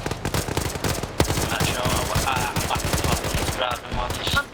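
Gunfire in the squad-tactics game Xenonauts with Cold War era American soldiers fighting aliens, dense repeated shots and bursts close and loud, with a voice talking faintly underneath.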